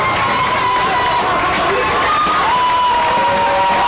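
Crowd cheering and applause greeting Senegal's national football team on arrival at their hotel, a continuous loud roar of voices and clapping with whistles over it, heard under a broadcast narrator's voice.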